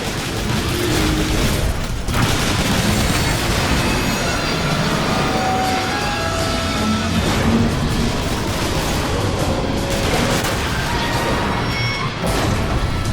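Heavy gunfire in Transformers War for Cybertron pounds away at emergency locks, a dense, loud barrage of blasts and booms mixed with rumbling mechanical noise that runs continuously without pause.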